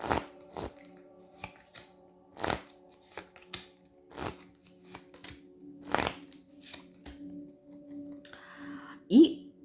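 Tarot cards are shuffled and flicked in a quick series of crisp riffling bursts, close by, with soft speech murmuring in the background.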